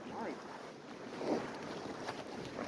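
A strong blizzard wind blows in Buffalo, a faint gusty rush with rising and falling swells. It is heard over light background noise.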